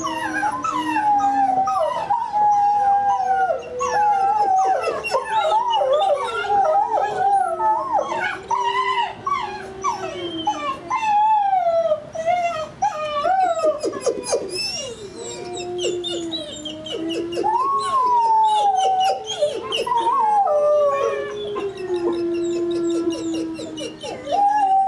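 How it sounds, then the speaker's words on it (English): Young pups howling together, a long chorus of rising and falling wavering howls mixed with yips and whimpers, close and loud, carrying on continuously for about twenty-five seconds with no talking. "And here we have a howl."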